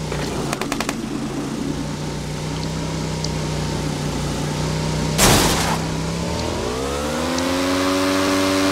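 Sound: motorcycle engine revving in video game

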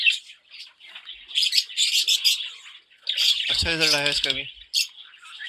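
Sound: Fischer's lovebirds calling in breeding cage

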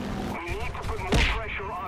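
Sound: aircraft gunfire in the video game War Thunder

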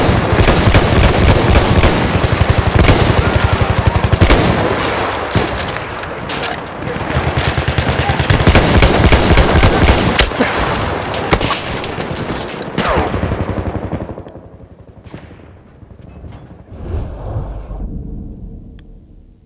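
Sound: machine gun fire in the video game Battlefield 1

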